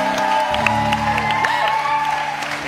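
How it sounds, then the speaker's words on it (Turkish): A game-show studio audience claps steadily and loudly, with scattered whoops mixed into the dense applause under sustained music tones. "Alkış!"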